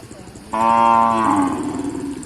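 A native Thai cow at a local cattle market in Nan moos once, a loud close low call with a sustained harmonic tone lasting about a second, over faint background murmur.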